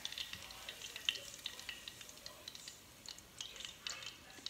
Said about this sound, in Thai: กุ้งชุบแป้งทอดก็แซ่บใส่ให้เบิดกันทอดให้เบิดกันพี่น้อง